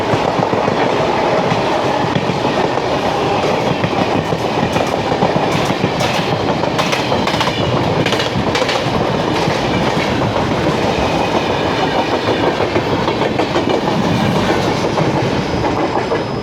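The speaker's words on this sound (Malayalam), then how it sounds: "വിജയവാഡയുടെ 39341 ശബരി എക്സ്പ്രസ് ആണ്." The Sabari Express passes close by in India with a loud, continuous rumble and rhythmic clickety-clack of wheels on the rail joints, steady throughout.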